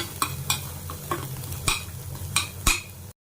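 A masala of tomato paste, chilli powder, salt and turmeric frying in ghee is stirred with regular scraping strokes over a soft, continuous sizzle, close by.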